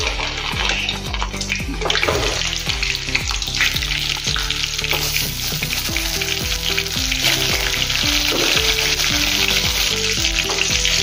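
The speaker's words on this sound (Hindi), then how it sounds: "अभी कढ़ाई में तेल डालेंगे बैगन तलने के लिए। और बैगन को हम इसमें डाल देंगे।" Eggplant fries in oil in a kadai, a continuous close sizzle and crackle running under loud background music with no speech.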